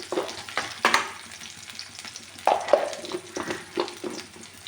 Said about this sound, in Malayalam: അതിനുശേഷം അല്പം ഉലുവയും കൂടെ ഇട്ട് കൊടുക്കണം.